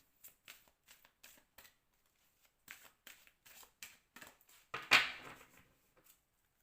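Moon oracle cards drawn from a deck, a series of soft, quick card flicks and slides with short pauses between them and one louder rustle near the end, close and quiet.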